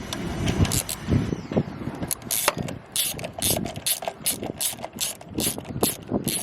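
A 17 mm ratchet wrench working on the flywheel of a Yamaha Blaster, giving rapid bursts of close, crisp ratcheting clicks in repeated back-and-forth strokes with no talking.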